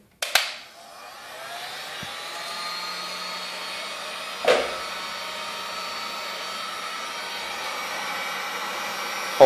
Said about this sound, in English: So turn on the heat gun on high setting.